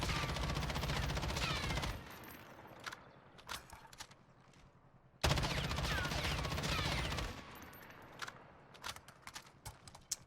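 An M13 assault rifle with a stock 30-round magazine fires in the Warzone video game: two loud, sustained full-auto bursts of about two seconds each, each followed by scattered sharp clicks and clatter. No one talks.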